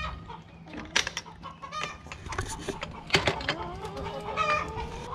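Chickens cluck and squawk in a backyard chicken run, with several close, irregular calls and a rising drawn-out cry partway through, over a low steady hum.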